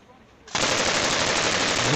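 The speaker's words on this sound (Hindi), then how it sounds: "ये तो मशीन गन है ओरिजिनल" At a Pathan wedding in Pakistan, a machine gun suddenly opens up into a loud, continuous stream of rapid automatic fire that lasts to the end.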